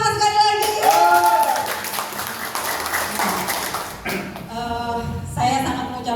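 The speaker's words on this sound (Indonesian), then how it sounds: "Coba kita tepuk tangan sekali lagi." An audience at an Indonesian dissemination event breaks into a short burst of clapping, with speech on either side of the applause.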